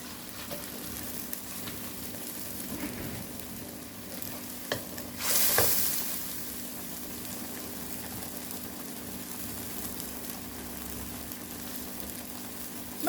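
Pork belly with chili and beans stir-fries in a hot pan, giving a steady, even sizzle with occasional scraping from stirring and one brief louder hiss midway, moderately quiet and without talk.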